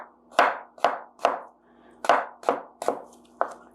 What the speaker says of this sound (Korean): 칼을 이렇게 어슷하게 이렇게 썰어 주시면 돼요